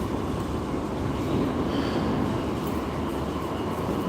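A subway train at the Brooklyn Bridge station in New York gives a steady, loud low rumble of rolling cars and rail noise that carries through the whole stretch, with no voices over it.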